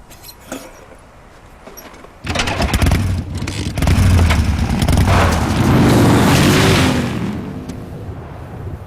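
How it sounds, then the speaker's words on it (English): A motorcycle engine in Metal Gear Solid: Snake Eater 3D chugs loudly and steadily after a sudden start, a dense rumbling drone that holds for several seconds before easing off. "That motorcycle's probably like chugging down there."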